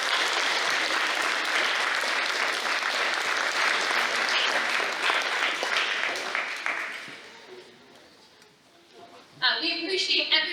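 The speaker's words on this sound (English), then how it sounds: "A big round of applause for Sherpa." Sustained audience applause at a school invention convention, dense and steady for several seconds before fading, then a brief burst of talk near the end.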